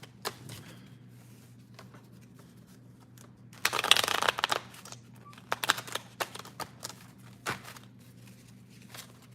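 Oracle cards are shuffled in a few quick, papery bursts, with softer flicks and taps before and after, close and fairly quiet.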